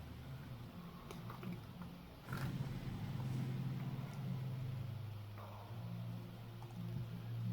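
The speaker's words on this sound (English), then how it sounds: "There's my motorcycle." A military motorcycle unit's engine in the turn-based strategy game Panzer Corps II drones low and steady, swelling louder partway through and holding a rough rumble to the end.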